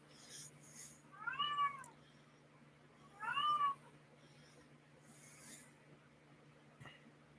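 Two cats give a pair of short, faint meows a couple of seconds apart in a quiet indoor room, with light rustling around them.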